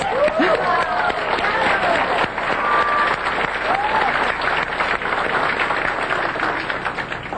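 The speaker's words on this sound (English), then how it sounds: "So I think this is an applause, huh, to Rex." Audience applause for Rex at a San Francisco business gathering, steady dense clapping that fills the whole stretch at a loud, even level, with voices and cheers mixed in before it thins slightly at the end.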